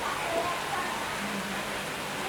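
Steady rain falls in an even, dense hiss, close and continuous throughout, with no other clear sounds standing out.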